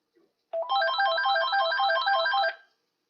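A telephone rings with a bright electronic trill, one continuous burst of about two seconds that starts and stops abruptly, loud and close against silence.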